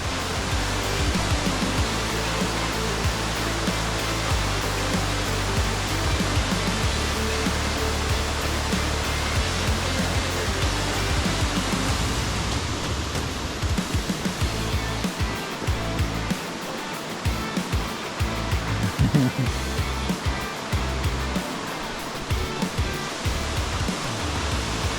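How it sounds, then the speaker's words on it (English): A powerful waterfall in the Cape Breton Highlands roars continuously, a dense, loud rush of falling water that holds steady throughout with no talking. "The waterfall did not disappoint. It was a good-sized fall running strong."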